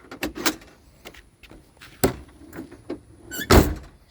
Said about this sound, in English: Door lock still works.